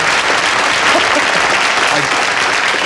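A television studio audience on a 1990 late-night talk show applauds Cliff Richard, a dense, steady roar of many hands clapping that fills the whole stretch without any voices.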